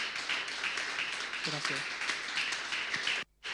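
Church audience clapping for the pastors, a steady moderate wash of applause with a voice speaking over it, cut off abruptly near the end.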